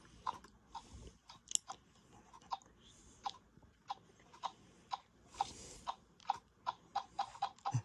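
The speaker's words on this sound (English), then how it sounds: "ruffed grouse." Ruffed grouse sound from a singing bird clock: a series of short, sharp thumps and drums that speed up toward the end, recorded close and fairly quiet, with no talking.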